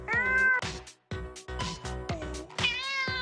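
Cats meowing at a catwalk show in Jilani Park, Lahore: several loud, drawn-out meows in close succession, some rising and wavering, with no talk over them.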